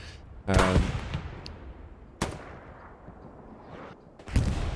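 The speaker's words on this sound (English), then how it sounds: "It's probably friendly artillery as well, actually, dropping that side of the bridge" Artillery shelling in Hell Let Loose near a bridge lands as several heavy booming impacts spaced a second or two apart, each sharp crack trailing into rumbling decay amid fainter distant battle noise.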